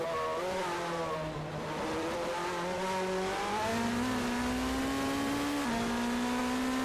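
GT3 race cars at Spa in a racing video game, engines roaring loudly and continuously with rising pitch as they accelerate through gear changes down a straight, a Ferrari leading a McLaren.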